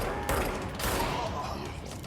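Gunfire in the video game Control: rapid, dense shots blend into a loud, continuous roar of blasts and thuds, with a voice faintly underneath.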